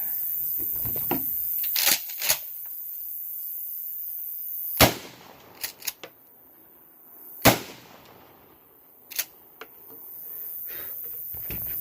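A 12 gauge shotgun fires 00 buckshot Remington shells in 2 3/4 and 3 1/2 inch loads at long outdoor range. Several sharp, loud blasts are spaced seconds apart, with small clicks and handling noises between them and no talk.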